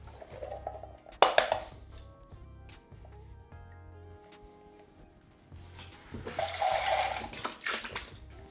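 Water runs from a kitchen tap while a can of beans is drained, two loud gushing bursts separated by quieter clinks and trickling, with a low electric hum underneath.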